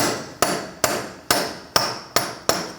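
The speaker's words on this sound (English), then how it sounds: "I'm going to use a punch and a hammer." A steel hammer strikes a punch against the axle of a 2000-2006 Mini Cooper during front ball joint replacement, six sharp metallic blows at a steady pace with ringing decay, close and loud with no talking.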